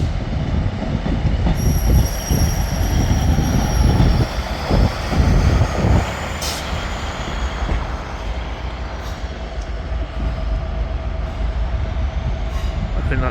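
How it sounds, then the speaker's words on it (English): A train at Manchester Piccadilly station rumbles loudly close by, with wheels squealing at high pitch over the steady low roar of the rolling stock, a few sharp clanks partway through, then a quieter continuous hum. "I think that train's ready to leave."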